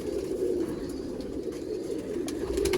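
A pigeon coos in a low, steady murmur, close by, with faint chirps from other birds in the background.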